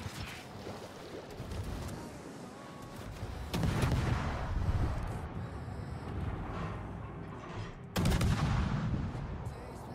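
Naval guns boom in a warship battle game, two heavy blasts several seconds apart over a constant rumble of engines and sea.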